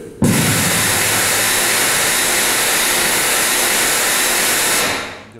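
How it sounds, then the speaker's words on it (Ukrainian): A noise generator in an acoustic testing laboratory, capable of reaching 150 decibels, blasts a loud, steady broadband roar like a jet taking off. It starts abruptly, holds constant for about five seconds, then cuts off and fades. "Шум від цього приладу може сягати 150 децибелів."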